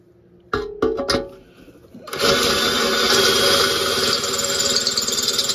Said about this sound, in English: we're actually drilling through a broken easy out right now